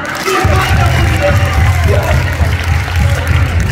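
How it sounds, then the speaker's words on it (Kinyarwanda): A church congregation breaks into sustained applause, a dense, loud wash of clapping with a steady low rhythmic thump running beneath it throughout. "Reka tumukomere amashyi."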